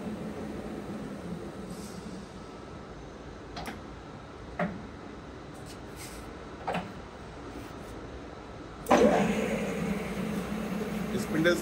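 A Korean Mecca Turn 460x1000 lathe spindle ticks softly and evenly at low speed, then surges abruptly into a louder, steady whirring run as its speed is raised.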